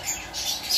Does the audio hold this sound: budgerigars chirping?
yes